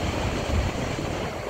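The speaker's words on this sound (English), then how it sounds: "Ooh, the wind's blowing." Wind blows hard at Horseshoe Falls, Niagara, a brief steady rushing roar buffeting the microphone with no voices.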